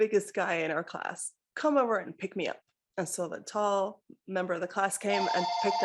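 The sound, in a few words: telephone ringing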